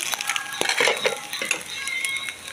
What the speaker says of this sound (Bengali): ডিম ভাজাটা নামাবো।